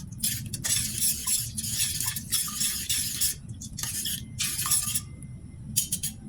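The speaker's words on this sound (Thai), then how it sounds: "แล้วก็ผสมน้ำยาให้เข้ากัน" Spoon stirring a spicy Thai glass noodle salad dressing of sugar and chili in a bowl, rapid bursts of clinking, scraping strokes with brief pauses, close and clear, no talking.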